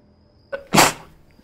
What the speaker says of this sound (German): Ich niese mal zweimal.